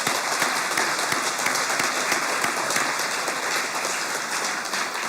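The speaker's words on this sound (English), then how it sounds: "So I'd like to give you all a round of applause." A large graduation-ceremony audience gives a round of applause, steady dense clapping filling the hall at moderate level for the whole stretch, with no voices on top.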